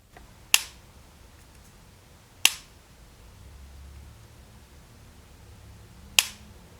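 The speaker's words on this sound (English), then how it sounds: "The lid of the case is super clicky, and just the sound of it is really satisfying." Three sharp, crisp clicks of the OnePlus Buds earbuds case lid, spaced a couple of seconds apart, with quiet background between them.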